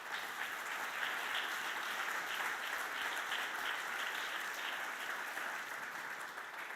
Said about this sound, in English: So let's first off applaud all of the nominees who have made this commitment to others.